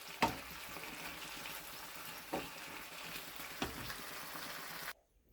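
Egg chow mein with vegetables being stirred in a pan, a faint, steady sizzle broken by a few sharp scrapes or clanks of the utensil against the pan, then a sudden cut to silence.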